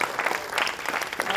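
Steady applause from a theatre audience after a stage performance of Ghasiram Kotwal, dense and even through the whole stretch, fairly soft with a murmur of voices under it.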